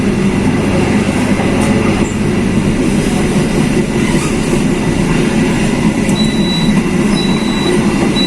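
A carriage of the Majapahit train rattles and rumbles steadily along the rails, a loud constant roar with faint squeals and clicks from the wheels.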